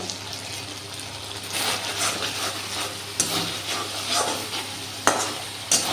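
Spices and biryani masala with Kashmiri chili powder sizzling in hot oil in a pan, stirred with steady scraping and crackling, a few sharp clinks of the spoon against the pan.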